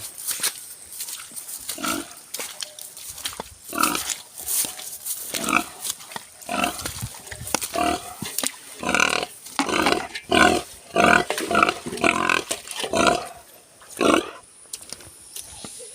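A pig on a rural farm in Marinduque grunts and squeals loudly in repeated bursts, close up, with no talking.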